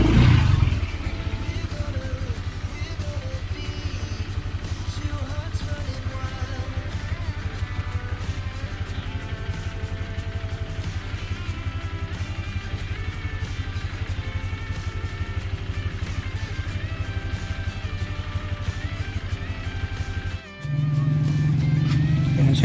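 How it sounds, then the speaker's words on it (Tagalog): A motorcycle engine idles steadily while warming up after starting. It is a continuous, fairly loud drone that dips briefly near the end and then resumes. "So painitin muna natin yung makina."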